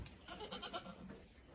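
A pregnant goat in a farm pen gives a short, wavering bleat at moderate distance over a steady background hum.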